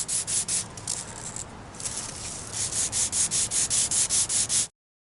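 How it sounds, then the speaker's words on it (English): A GraphTech Black TUSQ XL guitar nut being filed down on fine sandpaper, a raspy rubbing that turns into a regular, even back-and-forth rhythm of strokes, close and fairly loud, then abruptly stops. "I managed to get the GraphTech nut filed down"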